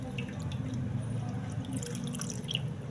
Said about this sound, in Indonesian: kalau udah disaring semua untuk adonannya, masukkan sisa airnya